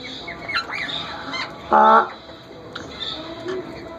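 A pet ringneck parrot gives a short, sharp squawk amid scattered chirps and calls from other birds, over steady background noise at moderate distance.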